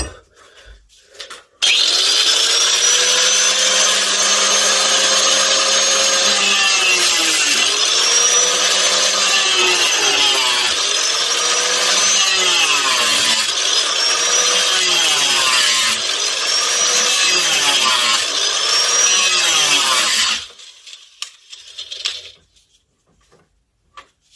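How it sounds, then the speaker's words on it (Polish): An angle grinder runs loud and steady for about twenty seconds, its whine dipping and rising in repeated sweeps as it sands across wood, then cuts off. "z tej strony przejechać szlifierką"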